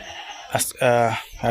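Goats bleat in a village goat pen, one short cry followed by a longer, wavering bleat nearby, with a voice briefly heard.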